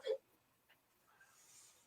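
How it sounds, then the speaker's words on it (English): A single short, squeaky hiccup comes right at the start, close and brief, then only faint breathy noise follows. "You burping in or hiccuping in my ear?"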